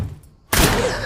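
Gunfire in a film scene aimed at a shipping container: a loud, abrupt burst of shots that erupts after a brief quiet lull and stays sustained and dense.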